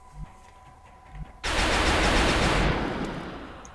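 Suppressive gunfire in X-COM, a sudden loud burst of dense, noisy firing that holds steady for over a second and then slowly fades, following a quiet stretch with a few soft thumps.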